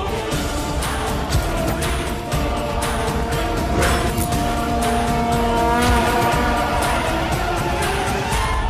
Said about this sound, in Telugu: ఎందుకు కారు స్లో చేశారు?